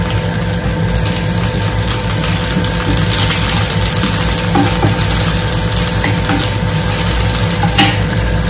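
Potatoes fry loudly in a pan for dum aloo, giving a steady, dense sizzle with the rough scrape of stirring running through it. The cooking sounds close and continuous, with no one speaking.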